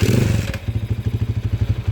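A repaired Kawasaki HD3 motorcycle engine runs close by with a quick, even, pulsing idle. A sharp rev opens the short stretch before the engine settles into its beat.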